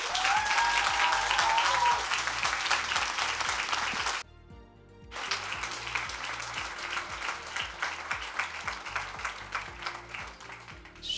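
Warm audience applause greets the young members of Play for Peace at a conference, a dense, steady wash of many hands clapping that dips briefly into near silence before swelling again and continuing alone.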